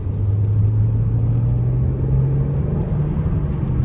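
A 2014 Maserati Ghibli with a 3.0-liter twin-turbo V6 accelerates, producing a steady, loud low engine drone and rising rumble heard from inside the cabin.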